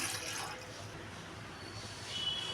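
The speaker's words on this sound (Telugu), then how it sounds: "ఇప్పుడు ఒక గిన్నె పెట్టుకొని మనం రైస్ సరిపడా రెండు గ్లాసులు వాటర్ పోసుకోవాలి" Water for cooking rice pongal pours steadily into a pot, a continuous rushing splash at moderate volume with no voices.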